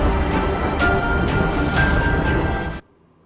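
Heavy monsoon rain pours steadily during severe flooding in Gujarat, a dense, loud hiss of downpour with faint distant rumbles, cutting off abruptly near the end.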